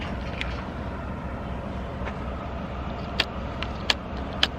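Steady engine drone from a 2021 Kawasaki KX450X dirt bike while riding, a continuous broadband roar with a few sharp clicks or knocks near the end, no talking.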